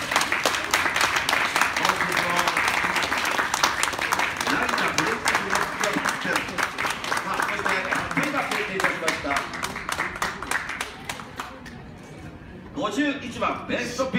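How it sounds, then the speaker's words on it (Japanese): Crowd applause rings out at a French Bulldog club show during the best-in-show judging, a steady round of clapping that thins near the end as a voice speaks over an announcer's microphone. "さあ、大きな拍手をお願いいたします。"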